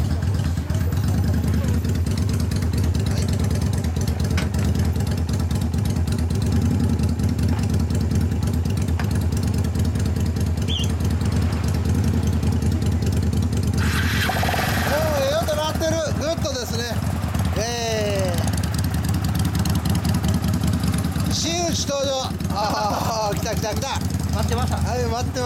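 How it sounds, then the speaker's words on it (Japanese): A 2005 Yamaha DragStar 400 standard with a Gatling-style aftermarket exhaust idles steadily with a deep thumping rhythm, then revs up several times in rising bursts, with people talking over it. "エンジン音聞かせてもらえるかな"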